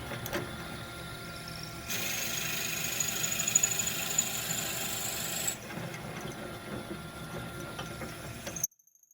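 A lathe drills into a dry wooden pen blank in a woodturning shop, a steady whirring machine drone with a harsher, brighter cutting passage in the middle before the drill eases back and the sound cuts off near the end.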